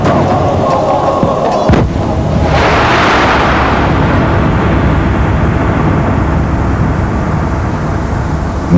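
Heavy artillery cannon fire at the siege of Constantinople in 1453: a loud, booming blast followed by a long, rumbling roar that fades slowly over several seconds, with no talking.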